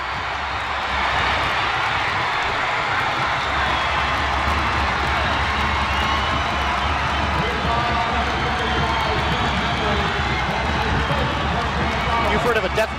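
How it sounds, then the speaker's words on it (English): A high school basketball crowd roars for Webster Thomas during the 1983 Section V Class AAA boys championship, a loud, continuous wash of cheering that fills the gym and swells toward the end, with commentary talk running over it. "The crowd from Webster Thomas going crazy"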